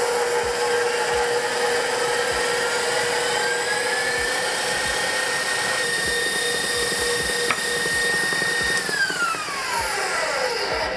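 An electric mixer runs at high speed, whipping sugar syrup toward soft-peak meringue in a bowl. The whine is steady, loud and close, with a pitch that rises and then drops near the end, and no talk over it.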